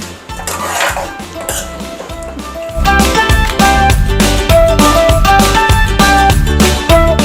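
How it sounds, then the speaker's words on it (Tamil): Food being stirred in a cooking pot: a ladle repeatedly scrapes and clanks against the metal in a quick, rhythmic series of close, loud knocks that grows busier partway through. "இப்போ நம்ம வந்து நல்லா கிளறி விட்டாச்சு"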